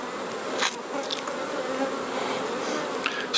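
Dense, steady buzzing of many honey bees inside a hive, a continuous hum filling the space without pause, fairly close and even in loudness.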